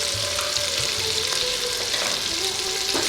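Mutton korma with red chili powder and sweet spices being stirred in a frying pan, a steady sizzle with soft scraping and stirring strokes, close and continuous, with no talking.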